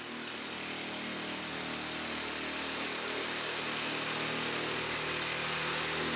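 Power shearer cutting fiber cement board, a continuous loud whining motor drone with a steady grinding texture and no pauses or talking.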